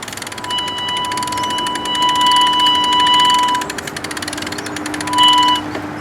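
A hand-cranked winch or come-along is worked to pull over a dangerous tree, giving a loud close ratcheting clatter of rapid clicks under steady machine hum, with a faint high whine through much of it.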